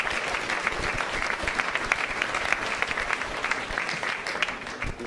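A crowd at a Martin Luther King Day talk in Cohen Hall claps steadily, a thick wash of many hands with scattered sharper claps, sustained at even loudness throughout.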